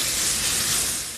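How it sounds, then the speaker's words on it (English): Chicken sears in a hot nonstick pan, giving a loud, steady, broadband sizzling hiss that runs throughout and eases slightly at the end, with no voices. "We should get a little show business sizzle when we lay into the pan."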